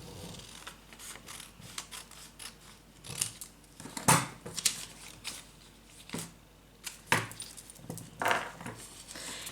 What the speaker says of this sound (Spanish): Cortamos la siguiente sección.